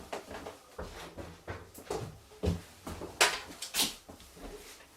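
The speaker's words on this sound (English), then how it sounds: "Office door closed." An office door swings shut, a couple of sharp knocks and clatters standing out from quieter rustling and handling noises in a small indoor room.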